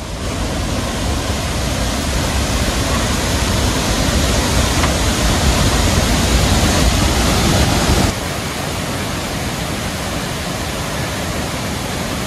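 Iguazú Falls in Argentina roaring as a dense, constant wall of rushing water, loud and close, with no talk over it.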